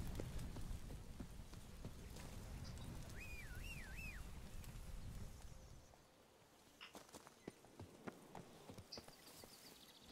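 Horse hooves clip-clop at a steady trot in The Witcher 3, fairly close and continuous for about six seconds, then fading to sparse faint thuds against quiet background ambience.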